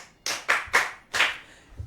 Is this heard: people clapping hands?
yes